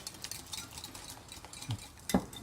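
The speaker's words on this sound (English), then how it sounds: "And I'll give that a little bit of a whisk." Whisk stirring an egg, mozzarella, parmesan and cream mixture in a bowl, soft scraping strokes with a couple of louder knocks against the bowl, close and alone.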